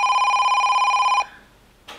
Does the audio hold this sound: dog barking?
no